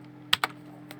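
Computer keyboard typing, two quick close keystrokes followed by a fainter third after a short pause, over a low steady hum.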